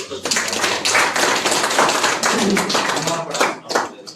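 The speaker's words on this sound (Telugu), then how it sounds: "చప్పట్లు కొట్టాలని" Audience applause at a grand launch event for resort membership card sales, a dense, steady wash of many hands clapping close by for several seconds.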